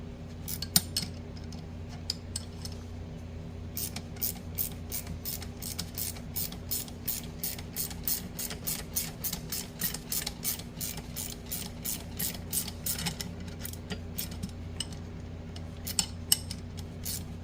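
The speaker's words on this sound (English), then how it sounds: "put the gear puller on there, and it's actually pulling it off pretty easy" Two-jaw gear puller being cranked to draw the gear off a Farmall diesel injection pump, a steady run of close, sharp ratcheting clicks in regular rhythm over a low hum, with brief pauses.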